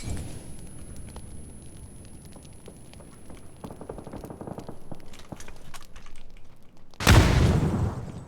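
A loud explosion in a video game bursts suddenly near the end after a stretch of quieter clicking and gameplay sounds, then a rumbling tail that lingers.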